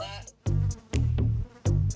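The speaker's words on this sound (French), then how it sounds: "Il y a une mouche sur mon chandelier." Indoors, a housefly buzzes close by near a candlestick in three loud, droning bursts, each separated by a brief pause.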